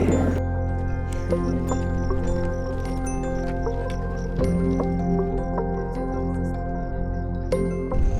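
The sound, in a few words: bubbling lava in Masaya volcano crater, Nicaragua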